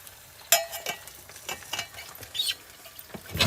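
Eggs frying in a pan after a little water is added: crackling sizzle with scattered sharp spits and pops, one loud burst near the start, fairly close and without talk.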